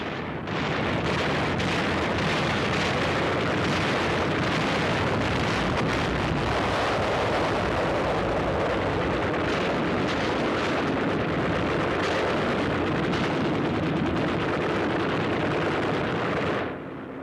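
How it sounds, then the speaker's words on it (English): Naval bombardment of the Iwo Jima beach area, with an intense close-in cover barrage from LCIs, makes a dense, continuous roar of overlapping explosions and rumbling blasts that runs unbroken and loud for the whole stretch, with no voices. "Naval bombardment of the beach area continues, augmented by an intensive close-in cover barrage delivered by LCIs"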